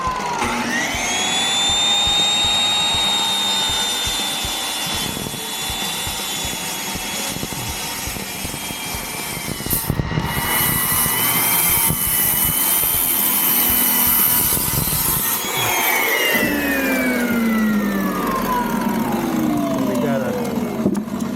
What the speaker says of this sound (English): I'm gonna drop it in slow. Drop the blade in spinning slow.